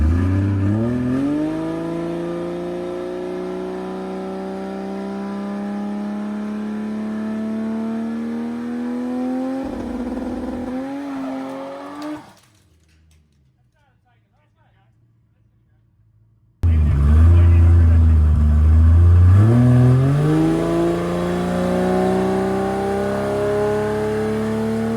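A 1000 hp 2JZ-powered Holden Commodore idles loudly and revs up to a high drone outdoors on a driveway. The engine cuts out briefly, then roars back with a deep rising rev.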